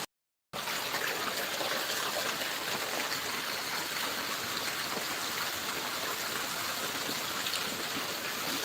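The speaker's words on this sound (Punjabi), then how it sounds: "ਅੱਜ ਤੇਜ਼ ਵਰਖਾ ਤੇ ਮੀਂਹ ਪੈ ਰਿਹਾ ਹੈ" After a brief silent start, heavy rain pours down steadily in Rajia village, Barnala district, Punjab, a loud dense roar of drops hitting surfaces close by.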